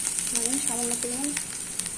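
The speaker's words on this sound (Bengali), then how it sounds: "মশলাটাকে ভালোভাবে কষিয়ে নিব।" A spice paste of chili powder, salt and coriander powder fries and sizzles steadily in a hot pan for a Bangladeshi gulsha fish dopiaza, with a continuous close crackling hiss and a few faint tonal squeaks underneath.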